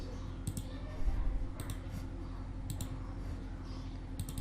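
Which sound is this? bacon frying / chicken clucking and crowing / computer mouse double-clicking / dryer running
computer mouse double-clicking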